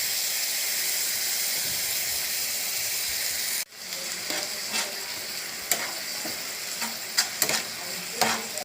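A soy and tomato sauce mix for chili chicken bubbles in a pan with a steady, close hiss that drops off sharply partway through, then returns as a crackling sizzle with scattered pops. No one speaks.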